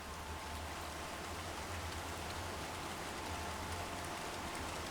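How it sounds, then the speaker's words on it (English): Heavy rain pours down steadily, a dense continuous hiss of drops striking surfaces with a low rumbling undertone, even and unbroken throughout with no voices. "The rain starts to come down a little heavier."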